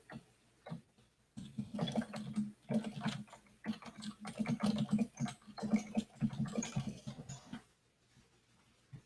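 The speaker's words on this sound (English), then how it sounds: "I'm just typing for a second." Rapid, uneven keyboard typing in bursts of clicks and taps, close and fairly quiet, trailing off near the end.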